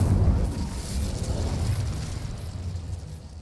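Incendio fire spell cast in Hogwarts Legacy in a spider-infested area, a single low whooshing burst of flame that fades over a few seconds, heard alone with no talk.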